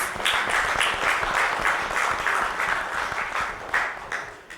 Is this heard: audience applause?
yes